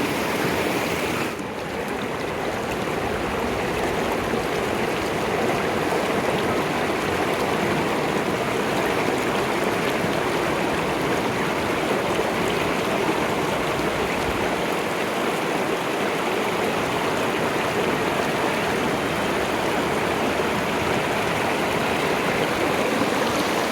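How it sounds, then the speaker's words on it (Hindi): A mountain stream in Murree rushes over rocks with a constant, loud, broadband roar that stays close and unbroken throughout. "ये देखिए जी पानी आ रहा है उधर से"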